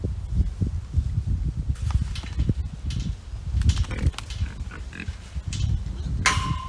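Pigs on a farm being sorted through gates, with grunting and snuffling, rustling and shuffling hooves, and metal clanks near the end, heard under a person coaxing the animals along.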